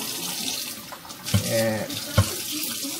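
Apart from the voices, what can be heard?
washing stainless steel cookware under running tap water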